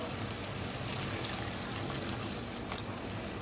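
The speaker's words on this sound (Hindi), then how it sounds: "इसके अंदर 1 गिलास के करीब पानी डालेंगे।" About a glass of water pours into a pot of cooking white lobia, a steady rushing splash that holds evenly throughout.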